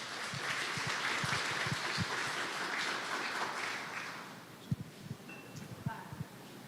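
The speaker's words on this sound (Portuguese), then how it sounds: "Uma salva de palmas para ele, por favor" A lecture audience at a Spiritist talk gives a speaker a round of soft, moderately dense clapping that fades after about four seconds, followed by a few isolated knocks and handling noises.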